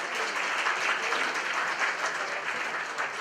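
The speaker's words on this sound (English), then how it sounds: "Please give a warm round of applause for Javid representing Azerbaijan." A crowd at a student country presentation night in South Korea breaks into warm, continuous applause, a dense, even wash of many hands clapping without pause, no voices on top.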